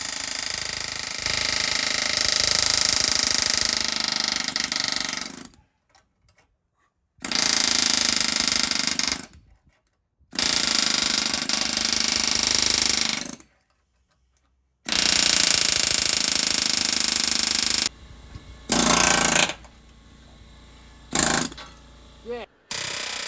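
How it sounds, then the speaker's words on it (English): Loud bursts of a rapid pneumatic air hammer and chisel chattering against metal, peeling off a weld on a Jeep JL, several runs of a few seconds each separated by short silences. "I'll get the air hammer and chisel behind it and just peel it off"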